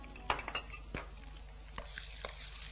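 Minced ginger stir-fried in a hot wok on a cooking show, with a scraping spatula, sharp metallic clinks and a low sizzle in a steady rhythm, close and moderately loud.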